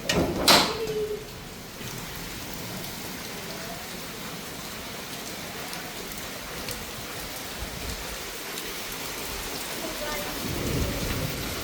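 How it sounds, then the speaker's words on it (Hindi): Heavy rain pours steadily onto surfaces outdoors with a sharp thunderclap near the start, followed by a continuous dense hiss and patter that swells slightly toward the end. "और बारिश देखिए कितनी तेज़ हो रही है।"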